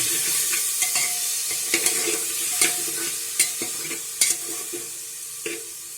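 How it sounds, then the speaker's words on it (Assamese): Boiled pork and other ingredients for an Assamese local dish are stirred together in a sizzling pan, with a steady frying hiss and repeated sharp clicks of a utensil scraping the pan up close. "এতিয়া গোটেইখিনি আমি একেলগে মিক্স কৰি"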